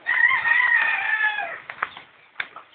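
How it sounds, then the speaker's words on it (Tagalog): Mother hens on a farm cackle and cluck close by in a loud, sustained burst, followed by a few sharper, scattered clucks that trail off. "ito po yung mga inahin natin"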